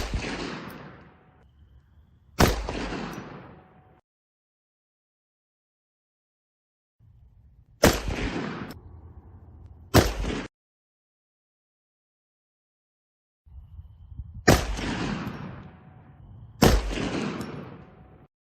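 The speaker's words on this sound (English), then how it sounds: "Here's a look at the recoil from the 6 and 10-inch barrels for each caliber." Desert Eagle pistol shots fired through 6-inch and 10-inch barrels in several calibers: six sharp, loud single reports spaced by silences, each followed by a ringing echo tail.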